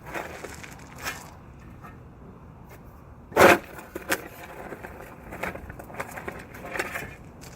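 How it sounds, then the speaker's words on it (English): A shovel digs into gravel tangled with tree roots while excavating beside an exterior wall for waterproofing, giving soft scrapes and one loud, sharp crunch midway. "Then you can get your shovel started into the gravel."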